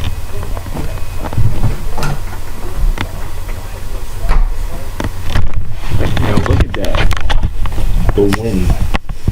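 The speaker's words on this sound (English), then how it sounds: "The wind." Hurricane wind from Hurricane Sandy in Maryland roars and gusts loudly outdoors, rushing steadily with harsh bursts, while people talk and exclaim over it.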